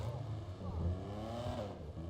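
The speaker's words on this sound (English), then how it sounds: "Listen to that exhaust as well." A customised competition-version car's exhaust drones steadily during a test drive in GTA V, a low engine rumble with rising harmonics as it accelerates, fairly quiet and continuous.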